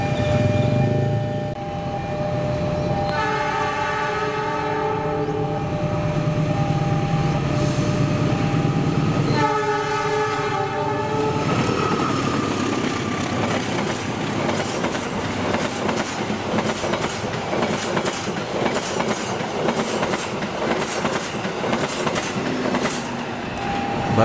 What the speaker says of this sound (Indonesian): Barusan lewat kereta api Argo Parayangan tambahan 40 rangkaian Jakarta Kota.